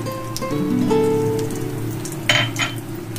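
Nigella seeds and green chilli hit hot oil left from frying fish, crackling and sizzling steadily up close, with a couple of sharper spits toward the end and no voices.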